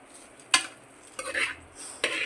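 A spoon stirs sambar rice in a metal pot after ghee tempering is poured in, making three sharp scraping clinks with soft sloshing between them, close and fairly quiet, with no talking.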